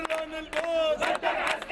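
A large crowd at a rally in Damascus near the Russian embassy roars and chants together, loud and close, in rising and falling waves of shouting.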